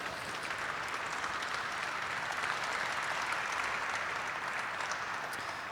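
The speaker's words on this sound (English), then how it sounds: "There is an applause in the room." Applause fills a room during a welcome session, a faint, somewhat distant but continuous wash of many hands clapping at an even level throughout.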